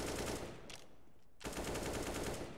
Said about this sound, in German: Die schießen beide in die Smoke rein